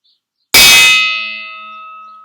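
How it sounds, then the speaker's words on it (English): A single loud metallic clang from a struck pan lid, its bright ringing tones hanging on and fading slowly, with nothing else heard. "That's a pan lid."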